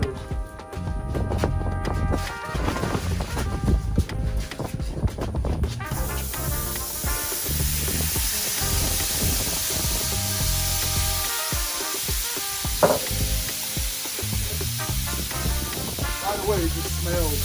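Potatoes hitting hot oil on a Blackstone propane cooktop, a bright steady sizzle and hiss that swells after the food goes in, with clattering utensils and a person talking over it.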